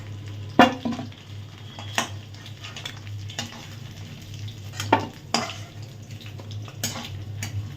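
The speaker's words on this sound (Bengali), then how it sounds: "মাছের মাথা ভাজা হয়ে গেছে?" A fish head fries in a pan under a low steady sizzle, punctuated by irregular sharp clinks and scrapes of a metal utensil against the pan, with a constant low hum behind.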